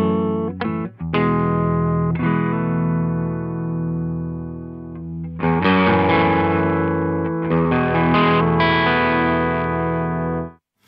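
An electric guitar with humbucker pickups runs through a Wampler Tumnus overdrive, playing rich driven chords and single strikes with short pauses between. It rings loud and sustained, with no speech.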